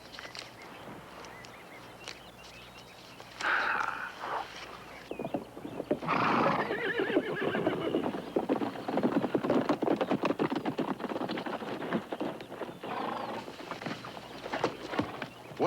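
A horse whinnies loudly, then hooves clip-clop in a rapid, uneven rhythm close by, with further snorts and neighs mixed in.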